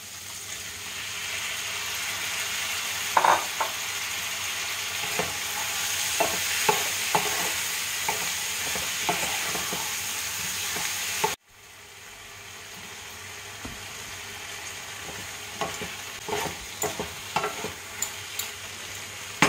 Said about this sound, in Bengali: শসাগুলো দিয়ে ভালো করে নাড়াচাড়া করে একটু কষিয়ে নিলাম।